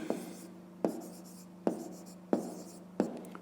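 Pen or pencil scratching on paper as an answer is written out by hand for a 5th-grade maths exercise, five distinct stroke bursts at a steady rhythm, each with a sharp onset and a short fading scrape, close and clear.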